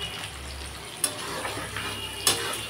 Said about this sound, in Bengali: এই দেখুন ভাজা হচ্ছে